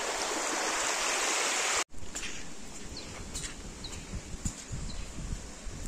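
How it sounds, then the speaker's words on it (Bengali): Fast-flowing stream water roars loudly and steadily in Sitakund, Chittagong, then cuts abruptly to a quieter outdoor scene with faint water, rustling, and a few bird chirps. "দেখেন পানি কি স্রোত, পানি কি স্রোত।"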